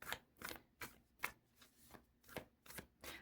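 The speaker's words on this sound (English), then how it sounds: "let's pull some tarot cards" Tarot cards are shuffled by hand in rhythmic bursts, about eight crisp riffling slaps spaced roughly every half second, close and clear, with no talking.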